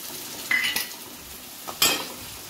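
Onion frying in a pan with ginger paste stirred in, faint sizzling under two sharp clinks and scrapes of a spoon against the pan.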